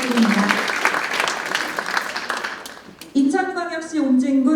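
An audience at a policy forum on fishing-boat safety claps in a loud, dense burst that fades after a few seconds, followed by a voice over a microphone.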